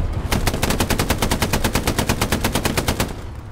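A machine gun in Hell Let Loose, the World War II shooter, fires one long rapid burst of evenly spaced shots, loud and close, for about three seconds before stopping.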